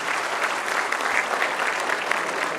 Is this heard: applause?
yes